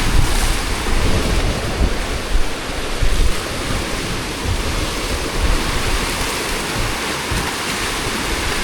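River water gushes through the holes of a bridge on the Jhumi river at Ghatal, Monshuka, a loud, continuous roaring rush close by, steady throughout with no voices.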